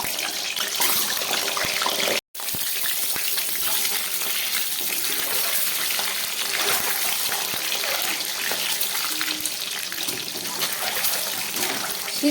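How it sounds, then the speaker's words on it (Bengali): Eggs fry in hot white oil in a pan, making a dense, continuous crackling sizzle with one brief dropout near the start and no talking. "আমি ডিমগুলো ভেজে নিচ্ছি।"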